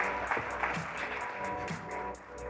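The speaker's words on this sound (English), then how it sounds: "Can you please give a big round of applause to the Minister?" An audience applauds the minister at the close of a session at the Economic Times Startup Awards 2023, a steady, fairly faint patter of many hands clapping throughout.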